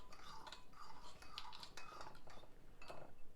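Rice vinegar mixture being stirred in a bowl with a utensil for a plant-based carrot hot dog recipe, giving soft, irregular scraping and clinking strokes close by throughout, fairly quiet.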